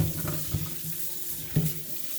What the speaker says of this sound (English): So I wash them, wash the potatoes.